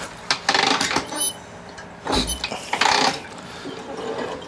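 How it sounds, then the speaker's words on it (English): Harley shovelhead motorcycle engine being kicked over, with several separate mechanical kick strokes, clanks and ratcheting thumps in short bursts, close by and fairly quiet overall. "it's been a while since I've kicked over a shovelhead"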